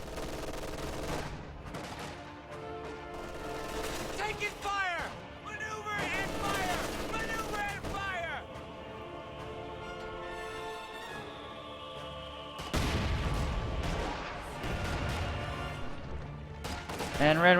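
Battle sounds from a strategy video game: mortar half-track and bazooka fire, with repeated bursts of gunfire and explosive booms scattered across the clip under steady commentary talk.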